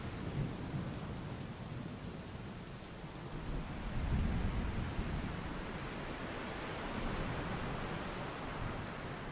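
Heavy rain pours steadily while low rolling thunder swells and fades, a continuous dense wash of storm noise with no voices.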